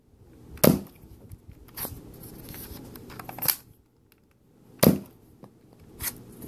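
Nerf Fire Strike blaster shooting suction darts: two sharp, loud pops a few seconds apart, each followed by fainter clicks and handling rustle, with no talk.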